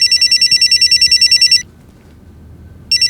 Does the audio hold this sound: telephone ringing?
yes